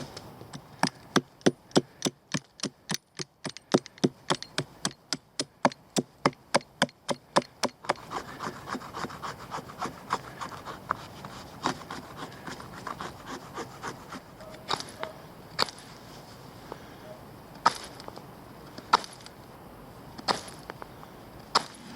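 A knife or axe trims a piece of tree wood in a rapid, steady run of sharp taps for about eight seconds, then a few slower, spaced strikes follow against soft scraping.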